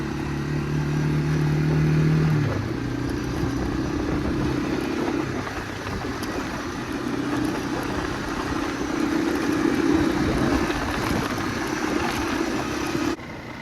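Engine of a Honda ATV ridden in first-person view drones steadily and close, with pitch rising and falling as it moves and a brief drop near the end, no talking.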